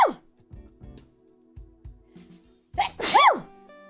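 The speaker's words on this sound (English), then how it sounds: "Those are celebratory sneezes." A person sneezes twice in quick succession, loud sharp bursts at the start and again near the end, with soft breathy sounds and a short voiced exclamation between them.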